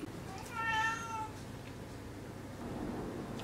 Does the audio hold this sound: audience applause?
no